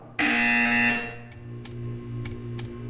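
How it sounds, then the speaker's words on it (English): A loud electronic buzzer from the video game Portal 2 blares for about a second, a harsh sustained tone that cuts off into a quieter game room with faint background hum and a few soft clicks. "You will hear a buzzer."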